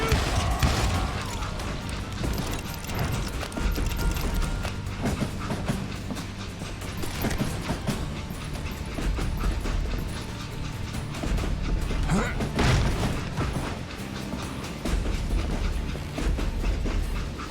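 A train rolling along in the Western game Call of Juarez: Gunslinger, heavy mechanical clanking and rattling of railroad cars with ratchet-like metallic knocks, loud and continuous throughout with rumbling low end.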